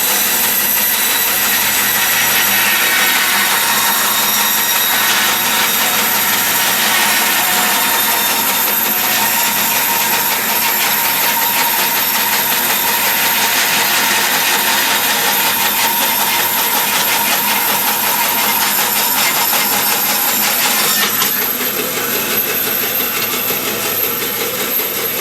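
A power saw rips through a good-sized piece of scrap cedar wood in a loud, continuous cut that holds steady for most of its length, then pitches up briefly near the end as the blade breaks free.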